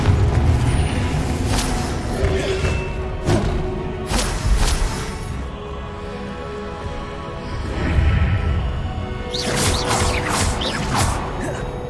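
Repeated blasts of the Confringo explosion spell in Hogwarts Legacy, a few loud booming bursts with crackling tails rising out of a dense, busy game soundscape of music and effects.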